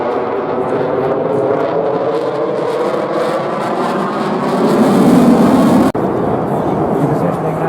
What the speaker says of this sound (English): positioning now for one more high-speed flypast